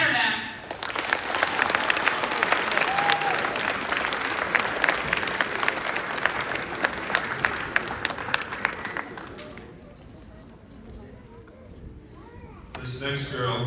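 A school audience at a peer awards ceremony in Plentywood breaks into sustained, loud applause for a seventh grader, clapping steadily for about nine seconds before fading to quieter room noise, then a brief burst of clapping returns at the end.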